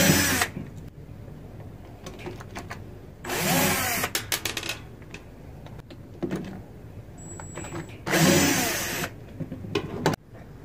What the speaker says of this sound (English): we're going to remove all the screws on the case